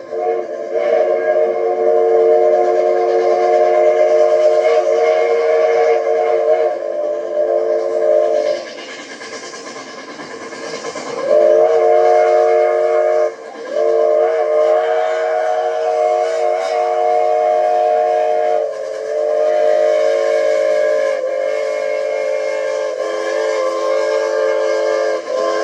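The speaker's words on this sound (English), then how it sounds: "It's now the scene of 3751 leading her train past the crowds that have gathered to see this historic" Santa Fe 3751, a 4-8-4 steam locomotive, leads its train past gathered crowds, its whistle sounding in long sustained blasts with brief breaks, loud and close above the rumble of the passing cars.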